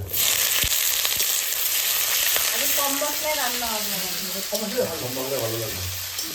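Onion fries in hot oil with a loud, continuous crackling sizzle close by, while a voice talks over it partway through.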